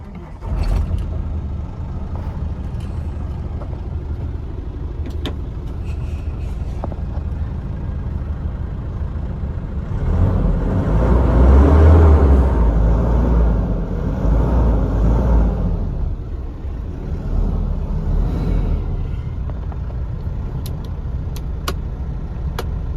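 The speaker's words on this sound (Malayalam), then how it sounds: "ഇനിയിപ്പോൾ നമുക്കൊന്ന് വണ്ടി ഒന്ന് സ്റ്റാർട്ട് ചെയ്യാം." Diesel goods truck engine starting and idling, a steady heavy rumble that swells louder for several seconds midway and then settles back to an even run, close by with no talking.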